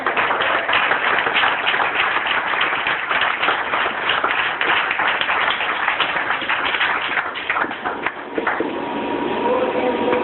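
A church congregation claps together, a dense and steady stretch of applause at close range that goes on for about ten seconds.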